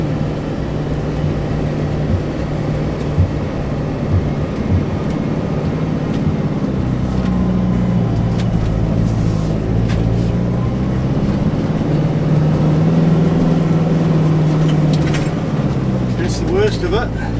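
A Sprinter van engine drones loud and steady as it climbs a soft sand track toward a beach campsite, its pitch rising and falling with the throttle, while someone talks over it.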